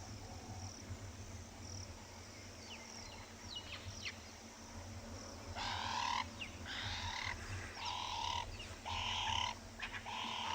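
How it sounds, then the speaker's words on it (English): Doves calling at sunset on an African safari, soft repeated coos rising out of a steady evening hum of insects and frogs, moderately distant, with other birds faintly in the background. "Lovely dove sounds."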